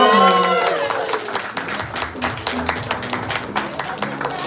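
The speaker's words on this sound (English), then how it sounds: "Let's all clap for" A crowd at a pageant press conference in Manila claps for the organisation's president, rising out of a fading musical chord into a steady patter of many hands with some voices underneath.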